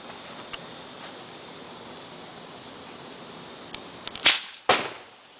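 A homemade air cannon fires a wooden-dowel-loaded projectile: after a stretch of quiet hiss, two sharp, loud bursts of air crack out in quick succession near the end.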